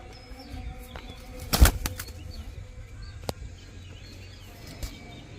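Rampuri high-flyer pigeons released, a sudden burst of wing flapping near the microphone followed by scattered fainter flutters and a few sharp clicks, with no talking.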